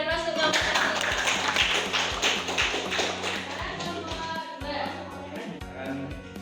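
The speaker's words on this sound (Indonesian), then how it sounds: "berikan aplaus untuk kelompok satu" Classroom applause for a student group, a steady run of fairly loud hand claps that continues throughout and eases slightly toward the end, with faint voices underneath.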